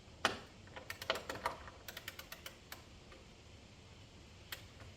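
A torque wrench being tested clicks and rattles in a quick burst of small sharp clicks, close and fairly faint, then a single click a moment later.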